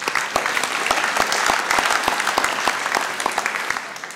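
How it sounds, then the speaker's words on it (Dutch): Audience applause at a late-night tech talk show, a sustained, evenly dense clatter of many hands clapping that carries on for several seconds with no voices over it. "Een applaus voor hem."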